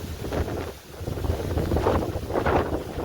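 Strong wind at Uparkot fort buffeting the microphone with loud, rumbling gusts that rise and fall throughout.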